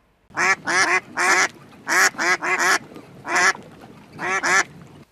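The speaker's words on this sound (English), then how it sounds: "All the ducks quacked and it sounded like the laughing of an old male duck when it goes mad." Ducks on a pond quack loudly and close by in repeated bursts of two or three harsh calls, with short pauses between groups over several seconds.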